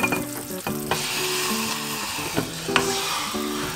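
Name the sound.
hot saucepan plunged into water, sizzling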